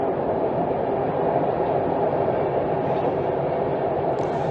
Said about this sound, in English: Here in Europe, it's not F-16s, it's just the trains.